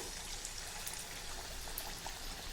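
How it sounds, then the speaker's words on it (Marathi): Pumpkin vadas deep-frying in hot oil, a continuous broadband bubbling hiss with fine crackles, steady and close, with no talk over it. "उरलेले सर्व वडे मी याच प्रकारे तळून घेते आहे"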